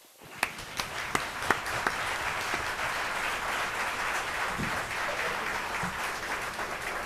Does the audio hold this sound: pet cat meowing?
no